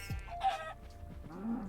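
Chickens in a video game mob farm give a few short clucks and a brief rising squawk, close and fairly clear with no one talking.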